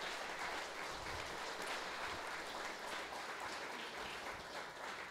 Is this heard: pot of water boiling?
no